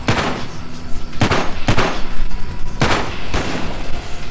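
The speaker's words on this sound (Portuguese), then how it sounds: "A explosão meio tosca, mas funcionou." Explosion effects in a VR video game, loud booming bursts with several sharp cracking hits over a continuous rumbling roar.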